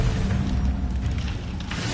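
Incendio fire spell blasts in a Harry Potter game, a loud rumbling, booming burst that sustains with a heavy low roar for a couple of seconds.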